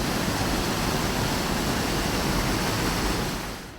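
A waterfall with a small tea shop at its foot, heard as a dense, loud, unbroken roar of rushing water that fades slightly at the close.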